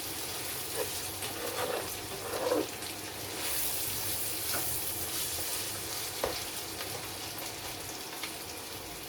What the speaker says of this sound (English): just keep mixing this till the onion is softened